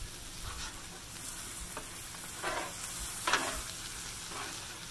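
Yakisoba noodles frying and being stirred on a Blackstone griddle with garlic sesame sauce, a steady close sizzle broken by a few scraping bursts of the spatula.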